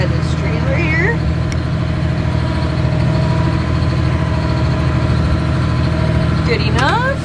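A tractor pulling a grain cart alongside a semi trailer during corn harvest, with a loud, steady engine rumble running throughout as someone talks over it.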